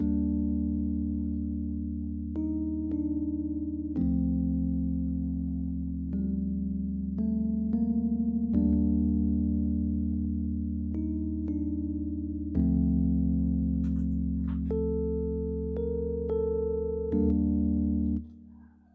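A melody from the first preset of a Launch Lizard synthesizer in an amapiano production, sustained tonal notes stepping through shifting pitches over a steady droning low layer, continuous and fairly loud with no talking.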